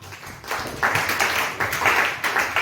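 A church congregation applauding to acclaim the Lord, a dense wash of many hands clapping at close range, swelling in bursts over about three seconds with a faint voice underneath.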